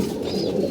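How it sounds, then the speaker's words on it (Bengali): Domestic pigeons, a cooing breeding pair kept in a loft, give soft low cooing close by, steady and unbroken through the moment with no talk. "এই যে আমাদের বাগা কবুতরগুলো"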